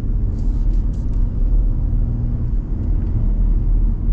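A 2024 Ford F-150 single cab work truck drives along, its steady low engine and road rumble filling the cabin continuously and loudly, with no voices over it.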